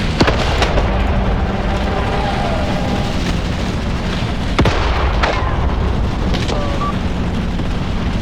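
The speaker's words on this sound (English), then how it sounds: "grenade explosions." Grenade explosions in the war game Graviteam Tactics crack out as several sharp, scattered bursts over a dense, loud rumble of battle noise, some near and some farther off.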